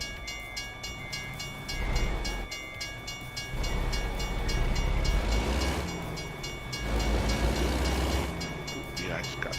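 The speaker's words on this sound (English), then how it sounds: "Oh crap, another train coming." A train rolls past in the American Truck Simulator video game, producing a steady, loud mechanical rumble and rattle that swells and recedes over several seconds with no pause.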